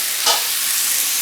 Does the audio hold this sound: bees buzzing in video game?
no